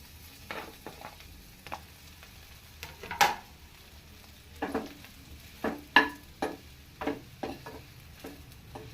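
Bread pieces frying in a pan while being turned for bread halwa, a quiet sizzle broken by scattered clicks and scrapes of a spoon against the pan, with no talking.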